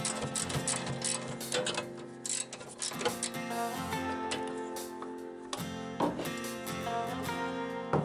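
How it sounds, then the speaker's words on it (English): A small 1/4 inch ratchet with extensions turns bolts on a Kioti 2410 compact tractor, giving steady mechanical clicking and ratcheting that runs throughout, close and fairly loud, with no talk. "To reach the bolts you need some extensions for that small little 1/4 inch ratchet"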